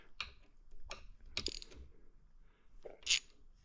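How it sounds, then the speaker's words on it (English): A tool loosens the brake mount on a Surron Light Bee X handlebar: a handful of sharp, separate metallic clicks and ratcheting ticks, close and quiet, spaced irregularly with brief pauses between. "So we're going to loosen up this brake to make that install easier."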